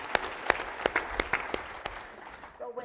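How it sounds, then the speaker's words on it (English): A conference audience gives a short burst of applause, with scattered, fairly close claps that fade out after a couple of seconds. "you can clap for that"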